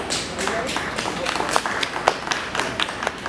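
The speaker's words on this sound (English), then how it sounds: "Please give our champion Carter a big round of applause" Clapping and applause from a county fair crowd for the champion showman at the 2022 Butler County 4-H and FFA dairy show. Steady, moderately loud claps with scattered sharper claps, mixed with background crowd voices.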